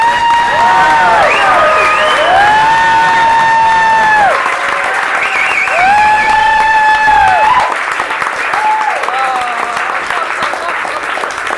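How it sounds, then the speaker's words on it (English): A concert audience applauds and cheers for a performer, a loud sustained roar of clapping with whoops and shouts rising over it, continuing throughout before easing slightly toward the end. "So I want you to make some real applause, for real, for this guy."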